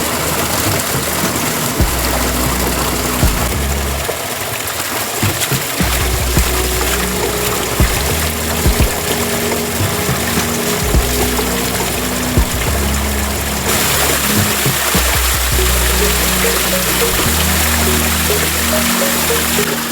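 A homemade water wheel turns in a shallow stream, with constant rushing and trickling water filling the foreground and a low rhythmic churn underneath, continuous and fairly loud with no voices.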